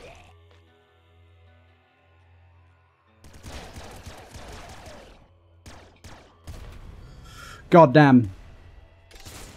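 Bouncer laser rifle shots in the Nuclear Throne video game come as scattered short bursts of zapping fire against low game background noise, with a voice talking and exclaiming between them.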